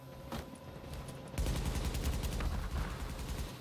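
Rapid gunfire with explosive-round blasts in the online shooter The Division, its Dark Zone mode, a dense burst of loud overlapping shots and booms that swells after a quieter opening.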